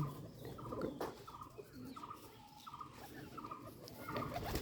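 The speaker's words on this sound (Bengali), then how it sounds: "সুন্দরভাবে খাবার খাইতেছে কবুতর জোড়া" A pair of Bombay pigeons feeding gives off a series of short, repeated throaty calls at a regular pace, fairly faint and close, over a low background murmur with no talk.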